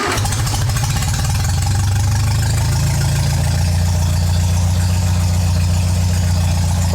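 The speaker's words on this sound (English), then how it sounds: "do a hot start. Check our timing a little bit." An MGA Roadster 1600 engine starts while hot, cranks and catches, then settles into a loud, even, throbbing idle close by.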